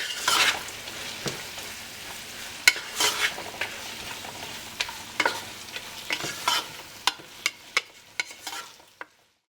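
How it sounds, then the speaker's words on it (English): Onions are sautéed in a pan for a pork curry, giving a quiet continuous sizzle broken by frequent sharp scrapes and clacks of stirring, which grow more rapid toward the end before fading out. "So we're gonna saute them for a little bit."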